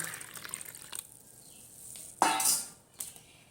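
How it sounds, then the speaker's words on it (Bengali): Lukewarm water poured into a bowl for kneading luchi dough, a short splash and trickle rising and fading, followed by a brief later clink. "জলটা আমি পাত্রের মধ্যে ঢেলে নিলাম।"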